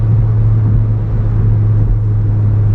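Stage 2 Golf R engine holding a deep, steady low rumble at close range, loud and continuous without clear changes in pitch, with no one speaking.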